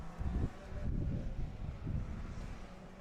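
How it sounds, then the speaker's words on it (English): Wind gusting across the microphone at a Formula SAE endurance event track, a low buffeting rumble that swells and fades in uneven surges, fairly faint overall. "Got wind picking up."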